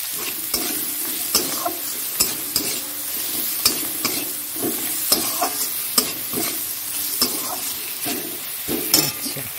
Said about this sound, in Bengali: হলুদটা দিয়ে দিলাম, নাড়াচাড়া করে নিই।